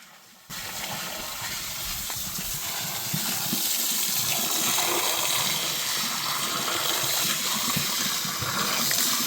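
Water gushes steadily into a household biogas plant tank, a loud continuous rushing pour that starts abruptly and runs without break.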